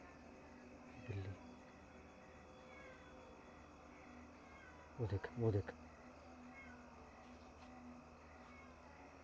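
A cat lets out a short drawn meow, then a louder pair of yowling meows a few seconds later, heard against a faint steady hum while a voice speaks nearby.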